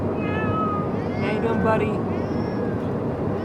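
A pet cat meows in a few short, high, wavering calls while someone talks to it over a constant low background rumble.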